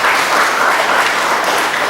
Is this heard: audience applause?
yes